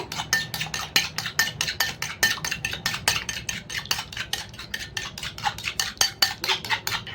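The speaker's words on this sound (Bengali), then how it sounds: "ডিমটাকে আমি ফাটিয়ে নেব ডিমটাকে ভালো করে গুলে নেব" An egg whisked briskly in a mixing bowl, the utensil clinking against the sides in a fast, steady rhythm of close, bright taps that runs without pause.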